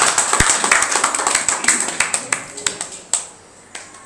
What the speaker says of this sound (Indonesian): Beri tepukan untuk Tuhan kita, Yesus Kristus.